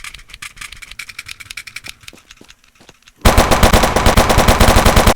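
Rapid automatic gunfire from the video game Thank You Chainsaw, with sparse scattered shots that thin out before a sudden, loud, sustained burst takes over for the final two seconds, no voices.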